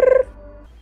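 A telephone rings in a short burst, one loud electronic trill that breaks off quickly and leaves a faint trailing hum.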